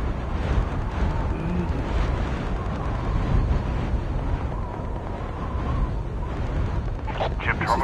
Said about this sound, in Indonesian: Masih terdengar tembakan, cuma nggak tahu di mana ya